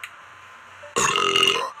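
Cartoon character in the Toca Kitchen cooking game letting out a loud, croaky burp lasting under a second after a quiet pause, then fading out.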